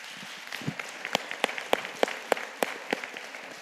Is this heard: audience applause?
yes